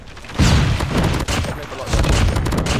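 Machine gun fire in Call of Duty Mobile: loud, continuous rapid gunfire with heavy booming bursts, close and dense, with a voice talking over it.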